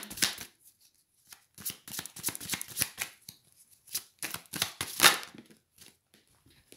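Tarot cards being shuffled and drawn, heard as bursts of quick riffling flicks and sharp card slaps separated by short pauses, close up with no talking.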